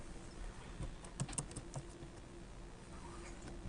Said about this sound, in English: So I'm just gonna type out real quickly Mike,